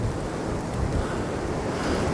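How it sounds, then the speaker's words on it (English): Strong wind buffets the microphone at a high, exposed campsite with steady low rumbling roar and gusty noise throughout, no voices. "I'm so sorry about the wind. It is mega windy up here."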